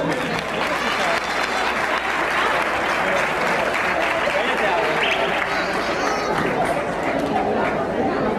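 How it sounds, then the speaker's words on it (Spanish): A crowd applauds a singer at an afternoon event, clapping loudly and continuously for several seconds with chatter and voices mixed in underneath. "Pues un fuerte aplauso para él,"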